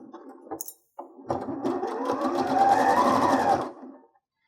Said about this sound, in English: Don't forget to back stitch at the beginning of your new seam.